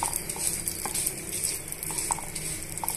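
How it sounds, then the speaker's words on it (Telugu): Tamarind, garlic cloves and spices fry in hot oil while being stirred, a close, busy sizzle with scattered clicks of a utensil against the pan and no talking. "నూనెలోకి వేసుకున్న తర్వాత ఇవన్నీ కూడా బాగా వేయించుకోవాలండి"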